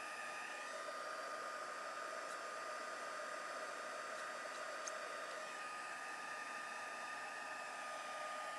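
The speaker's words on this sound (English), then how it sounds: "get my heat gun. Might be a little noisy." A heat gun blows steadily for embossing on a stamped card, a close, constant whooshing hum like a hair dryer that runs unbroken throughout.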